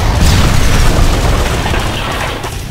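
A plane crashes and explodes in the video game Terminator Dawn of Fate, a loud, heavy booming rumble that sustains and slowly fades across the whole moment, with no talking.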